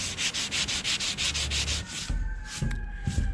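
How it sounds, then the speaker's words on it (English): A 320-grit sanding block rubbed lightly and flat over a dented car body panel, a steady series of about a dozen rhythmic close strokes, then a few slower scuffs and a light knock. "I just have a block here with some 320 on it. And we're just gonna lightly sand over it"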